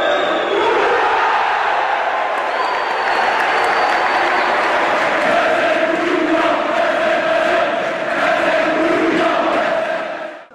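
A large home crowd at a basketball game in Boufarik cheers and claps loudly and continuously, with whistles and raised shouting voices swelling throughout before cutting off at the end.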